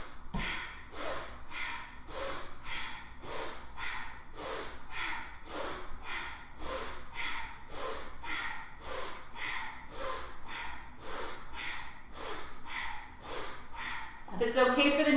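Alternate nostril breathing in a yoga flow: a long series of forceful, rhythmic nasal inhales and exhales, each breath a sharp rushing burst at a steady pace, close and clear, ending with a brief louder movement.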